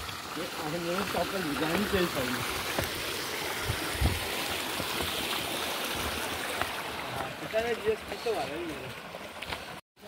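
A mountain stream near Sakthikhor waterfall rushes steadily and close by, a constant broadband wash that continues while people talk over it.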